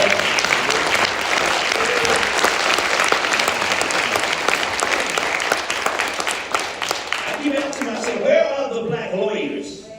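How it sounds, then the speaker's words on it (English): An audience gives a round of applause for Attorney Newman, who led a challenge against a city tax abatement program. Thick, continuous clapping fills most of the stretch, then a voice speaks as the applause dies down near the end. "I think we should give him a big round of applause"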